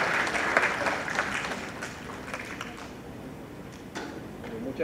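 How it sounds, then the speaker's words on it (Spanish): Sustained audience applause fills a hall after a university professor is introduced at a public hearing, a steady wash of many hands clapping at moderate distance with no talking. "Un aplauso para el magíster Jorge Acevedo Rojas."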